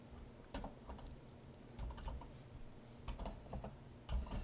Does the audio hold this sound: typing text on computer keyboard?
yes